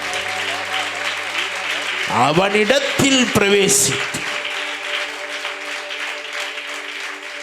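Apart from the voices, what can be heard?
church congregation clapping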